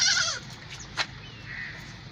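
A nanny goat with a male kid at a Karachi livestock market gives a single wavering bleat at the start, followed by a quieter distant bleat, over a low background hum.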